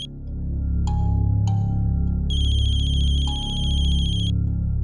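A loud electronic phone ringtone plays alone, repeating short chirping beeps followed by a sustained warbling tone over a low steady hum.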